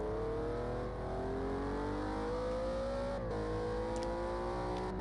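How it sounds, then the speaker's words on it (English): Renault RS01 race car engine revving hard in the Project Cars 2 racing game at the Nurburgring short circuit, a loud continuous high-pitched whine rising steadily in pitch with a brief dip partway through as it shifts. "Oh, the sounds of these cars are almost orgasmic."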